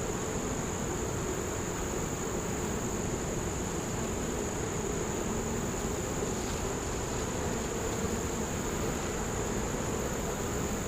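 Honeybees at a hive entrance with some carrying white pollen, a dense continuous buzz humming steadily from nearby for the whole stretch without speech.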